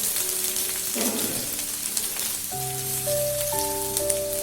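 Grated garlic and ginger fry in a pan with a steady, dense sizzling hiss, close and fairly loud, while sustained tonal background music plays over it.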